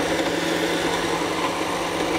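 Electric blender running steadily as it purees bread with tomato for Spanish salmorejo, a continuous close motor whir with no pauses.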